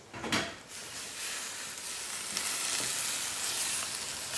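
Crab callaloo cooking in a pot, heard as a steady sizzle and hiss with a stirring scrape near the start, continuous and fairly close, no talking.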